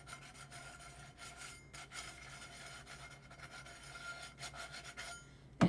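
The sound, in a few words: light sanding of a tumbler's shiny coating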